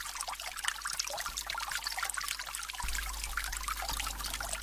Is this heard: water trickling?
yes